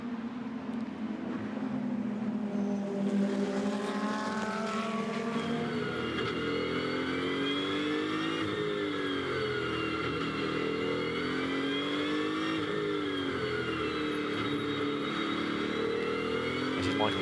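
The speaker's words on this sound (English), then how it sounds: "Accelerates away, road is clear ahead of him, and so it's race back on for Michael Vergers" GT2 race cars pull away at a race restart at Spa, several engines rising in pitch and overlapping as they accelerate, with a commentator talking over the noise.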